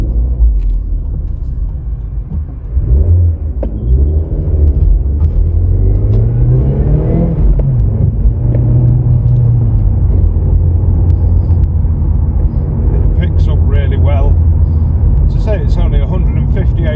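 A 2006 Mazda MX5 with a 2-litre petrol engine driving on the road, a loud steady rumbling drone with the engine rising and falling as it accelerates, heard from inside the car with someone talking over it.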